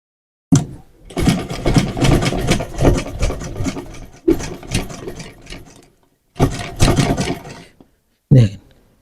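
A domestic sewing machine stitches in bursts, its rapid mechanical clatter running for a few seconds, pausing briefly, then starting again for shorter runs. It is close and loud, with no talk over it.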